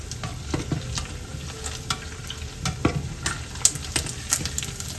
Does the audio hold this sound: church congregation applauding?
no